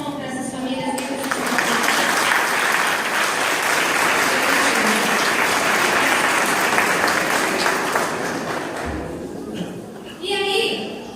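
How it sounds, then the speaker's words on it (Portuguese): An audience at a church children's-ministry family event breaks into sustained, dense applause that lasts most of the moment, with a voice speaking briefly at the start and end. "Eu quero uma salva de palmas para essas famílias negras."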